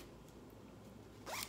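A zipper on the ankle of Adidas Climacool pants is pulled in one quick, close zip near the end, after a second of near silence.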